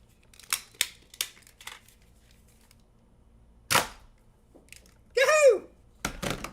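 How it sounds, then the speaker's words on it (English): Plastic Nerf pirate flintlock toy pistols fire a series of sharp, dry cap-like snaps: several spaced cracks, a louder shot, a brief squeaky chirp, then two more quick pops, with faint voices between. "I got 2 Nerf Pirate flintlock pistols."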